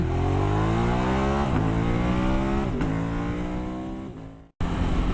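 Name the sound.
motorcycle accelerating hard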